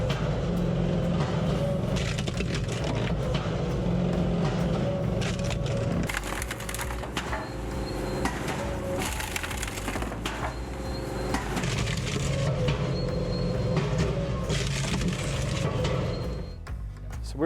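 Posch Autosplit 350 automatic kindling machine splitting timber of several species, including willow: a loud, close, continuous mechanical grind with repeated cracking and splintering bursts, alone with no talk.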